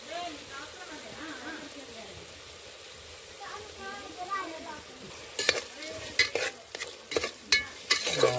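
A spoon scraping and knocking through tomato rice in a pan as half a spoon of turmeric goes in, soft sizzling at first and then a burst of sharp, rapid stirring strokes, close by.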